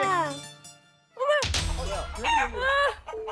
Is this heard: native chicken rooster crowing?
yes